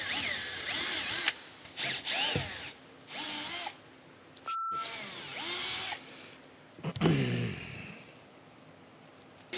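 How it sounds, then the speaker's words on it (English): A power drill bores holes into the wooden frame of a DIY sailboat in several short whirring bursts separated by pauses. The motor rises and falls in pitch as each hole is cut, with one brief high beep partway through. "I'm gonna drill those by hand."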